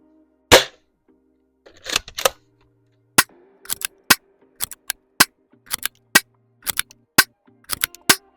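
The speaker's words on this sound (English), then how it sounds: "We're gonna be shooting at the shed." Aeon Pro X air gun firing at a shed about 100 feet away: a series of sharp, loud cracks, one early then two close together, followed by about a dozen shots at a steady, quick pace with brief gaps between them.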